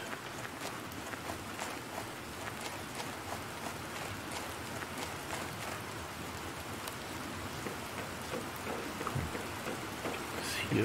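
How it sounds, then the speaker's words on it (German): Steady rain hisses across a planet in the survival game The Planet Crafter, a dense, even wash of drops that stays constant throughout, with faint game sounds and a voice occasionally beneath it. "Es regnet."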